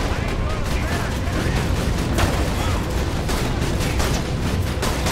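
Rapid bursts of gunfire in Borderlands 2 crackle continuously, loud and dense, with booming shots layered over one another throughout.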